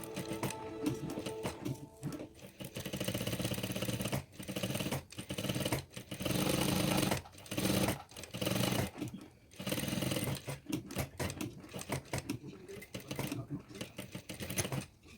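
A sewing machine stitches along the canvas of a shirt collar, running loud in repeated short bursts with brief pauses between runs, and a voice is faintly present beneath.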